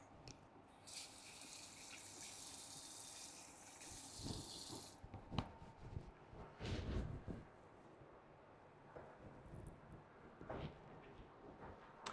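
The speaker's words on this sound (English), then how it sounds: "I'm just gonna wash my lemon." A lemon washed under a running kitchen faucet, a steady close hiss of flowing water for several seconds that then stops, followed by quieter handling knocks and rubbing sounds.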